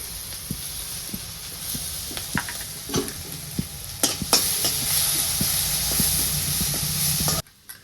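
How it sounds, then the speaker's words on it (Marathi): Green chili and garlic paste fries in hot oil, a loud continuous sizzle with spoon stirring clicks and scrapes, ending abruptly near the close. "हिरवी मिरची लसणाचं हे तेलामध्ये टाकून आपल्याला तळून घ्यायचं आहे"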